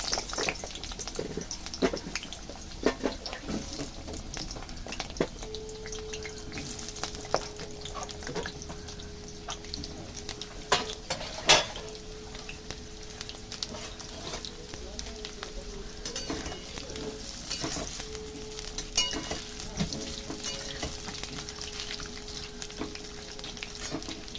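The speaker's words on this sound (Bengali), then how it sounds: "তেল গরম হয়ে গেছে, আলুগুলোকে দিয়ে দিচ্ছি।" Potatoes frying in hot oil in a wok, a steady close sizzle and crackle running throughout, with occasional clinks and a faint hum in the background.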